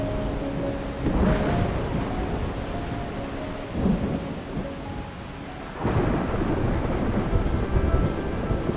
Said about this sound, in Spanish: Cuando las tormentas rompen la estación seca, la llanura de Liuwa, en Zambia, se transforma.